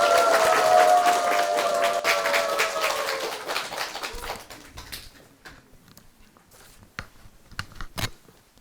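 Audience applause at a book talk with a Korean copywriter as a speaker is welcomed, dense clapping for about four seconds that thins to a few scattered claps and fades out.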